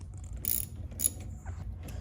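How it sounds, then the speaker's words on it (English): A T25 Torx screw being tightened on the fuel pressure regulator of a 1992-1996 C4 Corvette, close, with a few short clicking ratchet turns and small mechanical scrapes against a low background hum. "this will be a T25 torques to tighten this part of it down"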